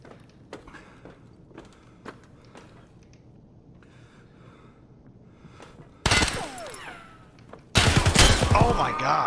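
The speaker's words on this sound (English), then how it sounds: "someone just shot me" Gunfire in Escape From Tarkov on the Factory map: faint scattered thumps and footsteps come first, then two loud, close bursts of shots crash in near the end, with voices faintly underneath.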